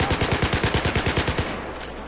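Rapid gunfire in the Battlefield 4 shooter, about a dozen evenly spaced loud shots in quick succession over under two seconds, then stopping, with no talking.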